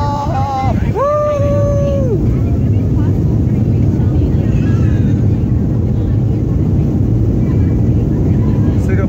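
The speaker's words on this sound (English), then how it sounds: "we're about to fly now. Let's take off." Airliner departing Oakland Airport, heard from inside the cabin: a loud, steady engine roar with heavy low rumble that holds for the whole stretch, with a brief rising whine near the start.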